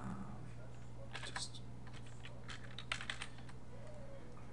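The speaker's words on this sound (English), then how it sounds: "I'm gonna type something" Soft typing on a computer keyboard, quiet scattered keystrokes in short bursts with a faint steady background hum, close but low in level.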